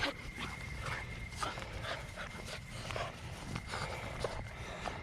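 Energetic farm dogs panting near the house, a steady breathy rhythm with faint scattered yips over low background noise; any barking is not clearly evident.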